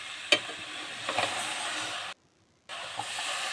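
Marinated chicken stirred in a hot pan for Kerala-style chicken ularthiyathu: a soft steady sizzle with a couple of sharp scrape clicks, then a brief silent break before the sizzle resumes.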